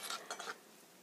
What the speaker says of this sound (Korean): 두부를 썰어 보겠습니다